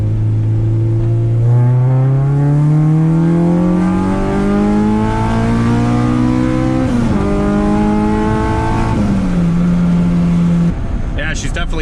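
A K24-swapped Acura Integra accelerates hard from inside the cabin, its engine note climbing loud and strong through the gears with brief dips at each shift before settling.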